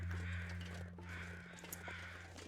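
Many crows cawing close together in a tight space, a loud overlapping chorus of harsh repeated caws over a low steady hum, no talking.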